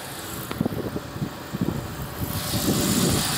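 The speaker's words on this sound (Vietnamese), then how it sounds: "Đây máy đang nổ đây các bác nhá." A slightly dirty original engine in a family car runs at idle as a steady low drone, broken by a few close knocks and clicks from nearby handling.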